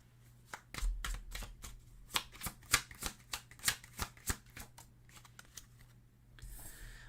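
Tarot cards shuffled by hand at close range: a series of sharp riffling bursts in an uneven rhythm, then a softer rustle at the end, quiet overall with no talking.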